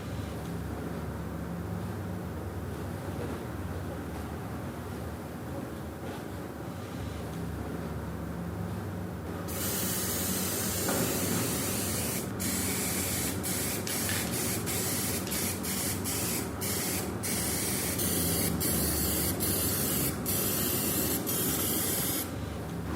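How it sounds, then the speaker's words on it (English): Aerosol spray paint can hissing in long continuous bursts for street art, quieter at first, then louder and broader with brief pauses between sprays. "Spray paint"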